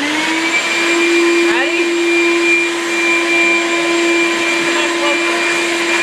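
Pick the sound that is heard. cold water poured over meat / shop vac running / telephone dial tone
shop vac running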